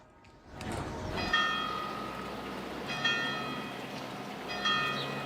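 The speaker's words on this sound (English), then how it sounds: "Church bells rang out for the victims of the school shooting in Graz" Church bells in Austria ring out in three slow, resonant strokes during national mourning, each swelling and fading over a steady low background rumble.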